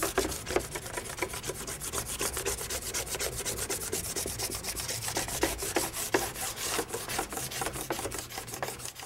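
A scraper drags across a waxed snowboard base in quick, repeated rasping strokes, a steady scratchy rhythm that carries on throughout at close range with no voices.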